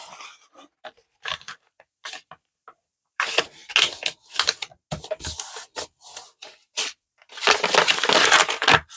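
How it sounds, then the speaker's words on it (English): Amazon cardboard packaging is folded in half, giving close, crisp creaks and crunches in irregular bursts that grow into a longer, louder crumpling at the end. "we're just going to fold that in half."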